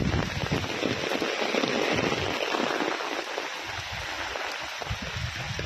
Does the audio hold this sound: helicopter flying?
no